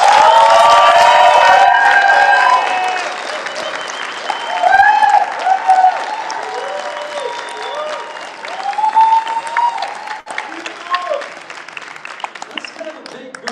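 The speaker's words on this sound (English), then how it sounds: "Please give yourselves a big round of applause." Applause from the audience at a graduation ceremony for marketing and project management graduates: loud clapping and cheering up front, then fading while a speaker talks over a few lighter bursts of clapping.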